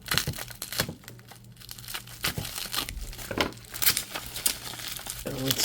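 Scissors cut painter's tape off a mailed package of baseball cards, giving close crinkling, tearing and snipping in irregular bursts, with a voice talking now and then.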